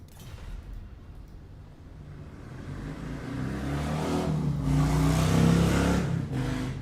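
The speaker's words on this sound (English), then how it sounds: "Someone with a very loud motorcycle going by." A loud motorcycle engine grows nearer, swelling into a roaring pass-by with rising revs, then begins to fade.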